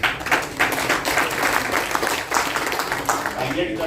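Audience applause at a talk, a dense steady patter of many hands clapping for the full stretch, fairly close and loud, with a voice speaking over it.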